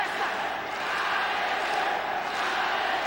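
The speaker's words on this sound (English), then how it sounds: "And the crowd getting behind Alexander Otsuka, hoping that he'll rally" An arena crowd at a Pride MMA fight roars steadily during the Renzo Gracie vs Alexander Otsuka bout, a sustained wash of cheering and shouts, with a commentator's voice faintly in the mix.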